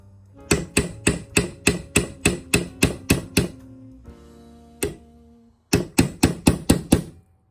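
Hammer blows on a steel punch tap a part back into a Remington Model 33 .22LR rifle, a sharp metallic run of about a dozen evenly spaced strikes, a pause with a single hit, then a faster burst of six more.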